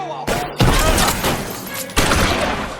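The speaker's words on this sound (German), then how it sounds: "dafür können wir schießen und zwar schöne Kopfschüsse" Gunfire in the video game L.A. Noire cracks out in loud, close bursts, with sharp repeated shots and booms in quick succession over a rough, noisy background.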